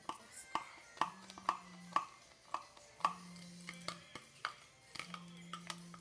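A spoon scoops and stirs homemade coffee in a cup, giving repeated light clinks and scrapes at an uneven rhythm over a faint, hissy background.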